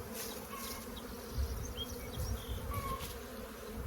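Honeybees buzz steadily all around during hive splitting, a dense droning hum with individual bees zipping closer at times, loud and continuous without voices.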